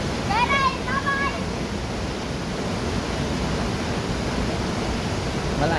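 Bahaw Falls in Catanduanes roars with a steady, loud rush of falling water that fills the whole clip, with a brief high whistle or bird-like chirps near the start.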